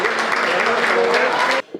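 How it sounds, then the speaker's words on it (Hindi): An audience at a Hindi kavi sammelan poetry recital gives loud, sustained applause with a crowd murmur underneath, ending abruptly after about a second and a half. "एक बार जोरदार तालियां बजाए"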